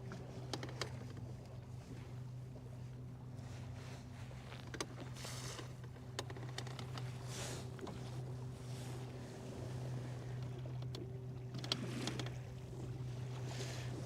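A fishing boat cruising across Lake Guntersville, its steady low engine drone running continuously with wind buffeting the microphone and faint water noise throughout.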